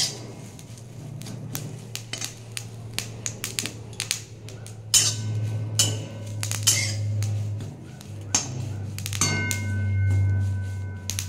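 Neem leaves and eggplant dry-roasted in an empty pan make irregular clicks, crackles and scraping clatter from stirring, with a low hum running steadily underneath.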